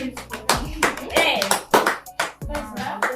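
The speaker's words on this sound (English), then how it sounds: "So please applause as he comes" Studio audience of children clapping to welcome a guest teacher on a kids' talk show, uneven bursts of close hand claps mixed with excited young voices and cheering.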